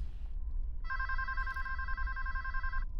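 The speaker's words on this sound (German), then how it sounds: "Telefon!" A telephone rings in the adventure game Geheimakte 2 with a single bright electronic trill lasting about two seconds. It sounds over a low background hum, with no talk.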